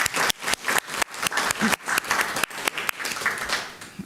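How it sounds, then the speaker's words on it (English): A city council meeting audience in Fillmore applauds Second Wave Physical Therapy with a brisk round of clapping, sharp individual claps standing out in a moderately sized crowd and tapering slightly at the end. "let's give them one more round of applause to Second Wave Physical Therapy"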